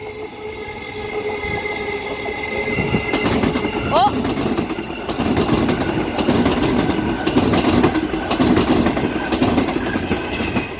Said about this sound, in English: Next train will be a non-service train.